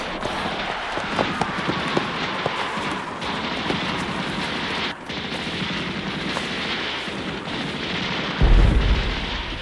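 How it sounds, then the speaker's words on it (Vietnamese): Nearby bomb explosions in a wartime drama scene: dense rumbling battle noise rolls on continuously, then a heavy low boom hits near the end. "Tôi nghe tiếng bom gần lắm, rung chuyển cả mặt đất."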